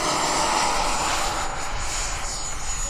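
A model airplane at a flying field passes overhead with a loud, steady engine drone and a thin high whine holding throughout, no voices heard.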